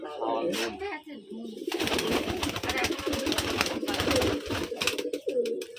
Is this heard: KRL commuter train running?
no